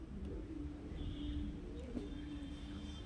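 Faint, low pigeon coos, including those of Madrasi pigeons, sound softly against a quiet background hum, with a few brief higher chirps.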